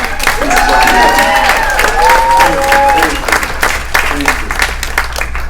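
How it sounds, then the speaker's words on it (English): A convention audience at Snockercon gives a loud, sustained round of applause mixed with some cheering, while a voice speaks over the clapping and the applause tapers off toward the end. "you just applauded, but I'm going to ask you to do it again"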